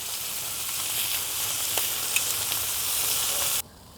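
Steak searing on a hybrid grill, a steady bright hiss of sizzling fat that holds evenly for over three seconds and then cuts off abruptly, close and alone without speech.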